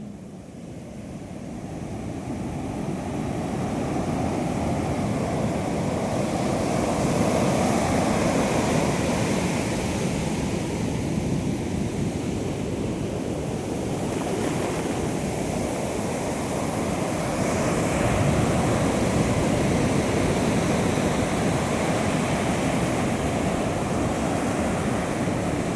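Steady roar of Arabian Sea surf breaking below South Cliff at Varkala, a broad continuous wash that swells in over the first seconds and holds loud and even throughout, with no voices.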